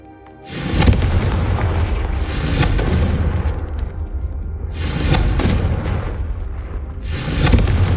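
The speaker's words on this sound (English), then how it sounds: "Have a go at those cannons." Cannons fire in the Hogwarts Legacy video game, with deep booming blasts that roll out in long rumbling waves, one after another, loud and continuous with no talk.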